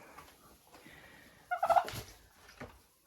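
Domestic turkeys gobble in a farmyard, a short burst of rapid warbling calls in the middle, fairly faint against quiet background with a few softer sounds after.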